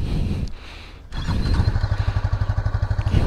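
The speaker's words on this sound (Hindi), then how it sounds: "एक बार इसका एग्जॉस्ट साउंड सुना देता हूँ" A 2024 Honda CB300F BS7 E20 motorcycle's exhaust, quiet at first and then a close, rapid thumping idle burble that holds steady to the end, with no talking over it.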